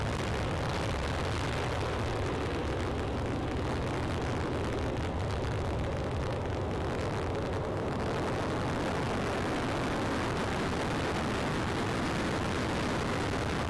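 Rocket engines roar at launch in a continuous dense, broadband rumble that stays loud and unbroken throughout, heard from a distance with no voices.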